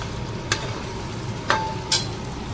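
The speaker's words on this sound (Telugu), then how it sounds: "సరిపడా గుడ్లు వేసుకున్న తర్వాత మంచిగా ఫ్రై చేసుకోవాలి ఇప్పుడు" Eggs fry in a pan for egg fried rice, giving a soft, even sizzle close by, with three sharp scrapes or taps of a spatula spaced a second or so apart.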